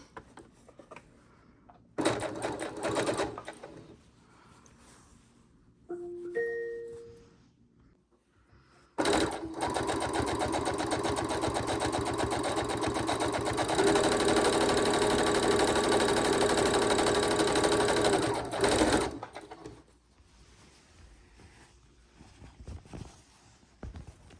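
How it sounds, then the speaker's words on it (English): A sewing machine stitches quilt fabric scraps together, right sides facing. A short run of stitching comes first, then a long, steady, close whirring burst of about ten seconds, with quiet handling noise between runs and no talking. "we're just sewing all of our scrappies together"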